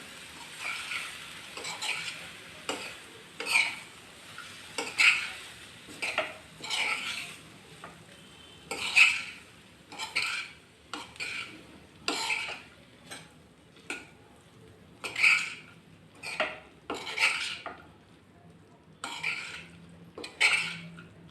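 A spoon scrapes and clinks against a pan while snake gourd palya with peanuts is stirred, producing repeated short metallic strokes in an irregular rhythm, close and moderately loud over a quiet background.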